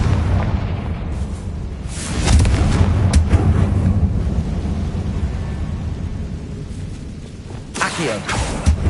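A Confringo blasting spell bursts in Hogwarts Legacy, booming loud and close around two seconds in, followed by rumbling debris and a fainter second blast near the end, with no talking.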